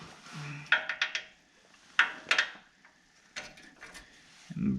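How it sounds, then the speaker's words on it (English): A breaker bar with a 24mm socket works a castle nut free on a 3rd gen Toyota 4Runner during a lower ball joint job. Close, scattered metallic clanks and clicks come in short bursts with quiet gaps between them. "Break that castle nut free."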